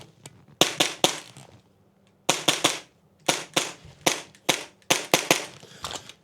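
A Krytac MAXIM9 airsoft pistol fires sharp, loud snapping shots nearby, in quick pairs and triplets separated by short pauses, with no talking.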